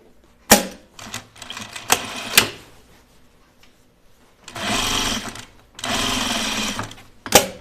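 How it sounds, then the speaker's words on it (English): A sewing machine stitches a pajama waistband closed, running in several bursts: short stuttering stitches early on, then two sustained close runs of steady mechanical whirring with pauses between, no speech. "now we can sew this closed right here"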